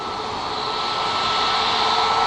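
A Ryanair Boeing 737 MAX 8 jet on its takeoff roll at Manchester Airport, a continuous broadband engine roar heard from a distance that swells gradually louder and holds steady.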